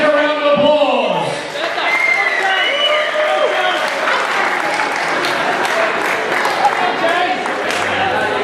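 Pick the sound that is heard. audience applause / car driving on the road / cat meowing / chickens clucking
audience applause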